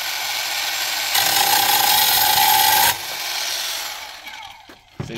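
A construction cutting machine slicing through material, a steady loud grinding whir that swells for about two seconds of cutting before dropping back to a lower running hum, ending with a few sharp knocks.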